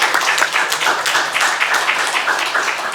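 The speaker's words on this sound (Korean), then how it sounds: "저보다도 박수 한번 칩시다." A church congregation at a Sunday morning service claps together in a brisk, full round of applause that stays loud and even throughout.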